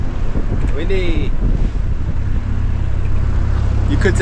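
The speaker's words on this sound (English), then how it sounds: "Windy." Strong wind buffets the microphone in a steady roar aboard a sailing boat at anchor, with brief voices and some creaking underneath throughout.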